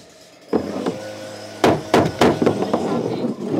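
Ring-shank nails hammered into roof boards of a flat-roofed garden room shed, a handful of sharp, ringing blows in an uneven rhythm, close and loud.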